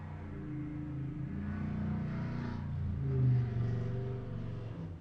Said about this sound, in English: That's my neighbor with his big block muscle car driving by.